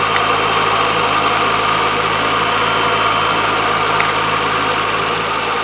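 A Ford Focus engine idles with its mass air flow sensor unplugged, a loud, close, steady hum with a mechanical rattle that holds at constant revs throughout, without speech.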